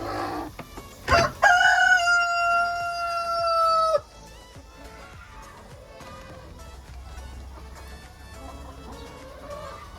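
A rooster crows loudly nearby in one long call, followed by scattered hen clucks and background farmyard noise from an urban backyard flock in Nairobi, Kenya.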